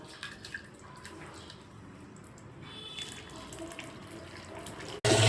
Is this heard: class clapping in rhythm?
no